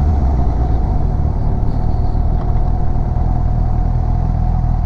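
A Subaru is parked with its engine running at a continuous low, rumbly idle-like drone, steady and fairly loud throughout.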